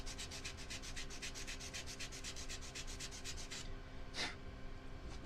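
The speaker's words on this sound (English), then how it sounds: "we're just going to go ahead and take this corner off of it with our sanding tool" A sanding tool taking a corner off a 3D-printed piece: rapid, rhythmic scratchy strokes that run steadily, stop, then give way to one louder scrape at close range.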